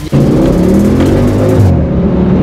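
A turbocharged car of about 2.1 tonnes accelerates hard from inside the cabin, a loud steady engine roar with rising whine and rumble that holds for about two seconds, then eases slightly.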